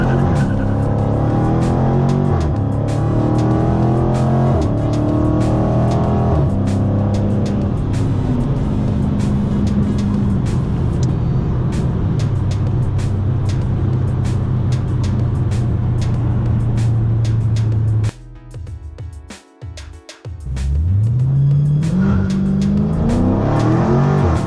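A Dodge Challenger SRT launches hard with a loud, close engine roar and the rapid chattering judder of wheel hop, then a brief drop and a renewed rising rev.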